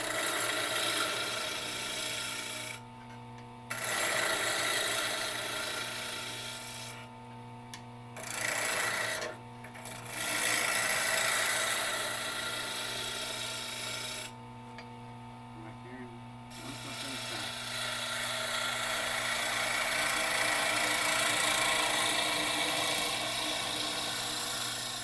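A woodturning gouge cuts a square wood blank spinning on a lathe, with a constant motor hum under rough, scraping cutting passes that drop away in a few brief gaps.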